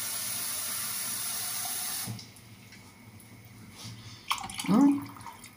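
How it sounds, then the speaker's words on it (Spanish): Water from a tetra brik carton poured out during household cleaning: a steady splashing hiss that drops quieter midway, then a brief louder gurgling pour near the end, close by with no talking. "Ahora le vamos a echar el agüita"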